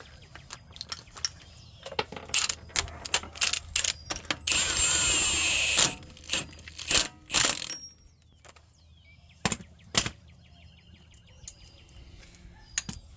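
A ratchet drives in a bolt during a front hub install on a Yukon or Tahoe, giving close bursts of rapid clicking and a few sharp metallic knocks between pauses.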